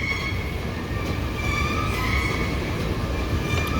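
A DC Metro train rumbles through L'Enfant Plaza subway station with a loud, steady roar of rolling wheels, broad noise and faint high whining tones. It is close by and continuous, with no talking.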